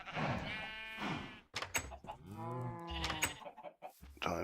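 Sheep in the farming video game Magic Farm 2 bleat repeatedly in quick succession, several wavering cries close and clear with short gaps between them.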